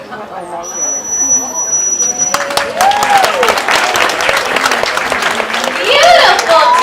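An audience applauds at a dolphin show, sustained clapping that swells partway through, with a voice talking over it and dolphin-like whistles and squeaks rising above the crowd.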